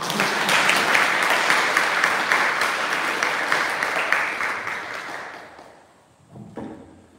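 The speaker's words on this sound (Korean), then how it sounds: "큰 박수로 환영해 주십시오." Audience applause welcoming a society president to the podium at a 2022 Sunmudo academic conference, a steady indoor clapping that fades out after about five seconds, leaving quiet room sound.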